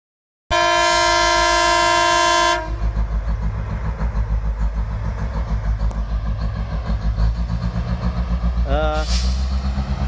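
The Matheran toy train on the hill line from Neral gives a loud, sustained whistle blast, then rumbles rhythmically along the track with a short second toot near the end.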